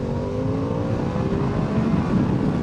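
A 2021 Harley-Davidson Pan America 1250 motorcycle accelerates from about 30 mph on an open road. Its engine note climbs steadily in pitch, a loud, continuous rising drone riding over road and wind rush.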